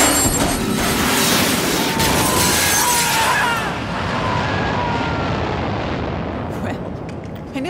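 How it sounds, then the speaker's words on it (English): An ejector seat fires from a jet in the Hitman video game, a loud, dense roaring blast with rushing wind and crackle that fills the whole stretch and slowly thins and fades toward the end. "Pull the ejector seat handle"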